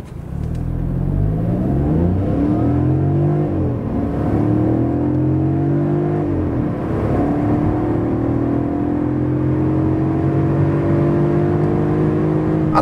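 A Hyundai i20 with a 1.0 T-GDI three-cylinder engine accelerates hard from inside the cabin, its engine note rising steadily through gears with a sustained drone and brief dips at shifts.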